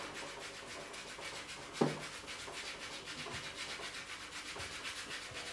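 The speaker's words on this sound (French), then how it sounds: "Donc on ponce les joints doucement et on vérifie régulièrement pour voir où on en est." Soft rubbing strokes of sandpaper on the joints of a piston fire lighter, a steady close abrasive hiss with one sharp knock near the start and no talk.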